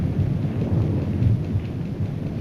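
Steady heavy rain pours throughout a film scene, with deep thunder rumbling underneath; the downpour stays dense and constant with no voices.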